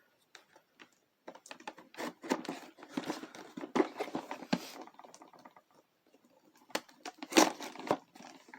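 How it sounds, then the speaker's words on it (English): Scissors snip and crinkle through the plastic packaging of a Bakugan Geogan starter set, a quick run of close, irregular cuts and rustles with short pauses, ending in a louder crinkling burst. "Pull out my trusty scissors."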